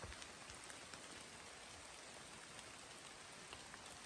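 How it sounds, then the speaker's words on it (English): Steady rain falls on the Appalachian Trail in fog, a dense, even hiss of drops close around the listener, continuous and unbroken with no voices. "It's finally clearing, but we're still in the fog and in the rain."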